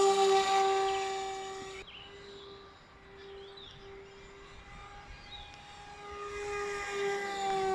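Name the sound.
electric RC airplane motor at full throttle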